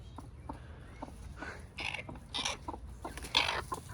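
A broody backyard hen in a new chicken coop gives low, soft clucks and grumbles in short bursts, fairly close, with scattered scratchy rustles around them.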